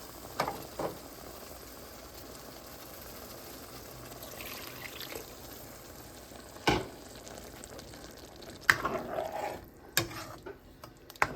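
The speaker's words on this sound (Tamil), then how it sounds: "தக்காளி குழம்பு கொதிக்கிறேன்." Tomato curry simmers in a pan with low bubbling and sizzling, with a few sharp stirring clatters and scrapes standing out now and then.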